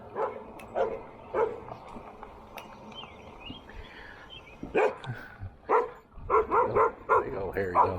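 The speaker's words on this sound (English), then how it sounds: "It's an interesting looking dog." A big hairy dog barks roadside near a rider on a Lectric XP e-bike, with a few sharp barks in short bursts at mid distance over steady road and wind noise, and someone talking now and then.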